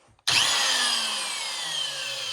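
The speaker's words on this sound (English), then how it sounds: "I have a piece of wood so that I can drill through the steel" Antique one-speed electric drill driving a short bit through steel clamped over wood: an abrupt start, then a loud, close, continuous whining grind with a slowly falling pitch and no talking.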